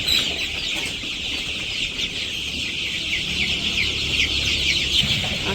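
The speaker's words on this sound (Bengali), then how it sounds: "আজকে মুরগি দৌড়াদৌড়ি করতেছে বেশি" Chickens cluck and scurry about a village yard, a steady busy chatter of clucks with some wing flapping, fairly close and continuous, no one talking.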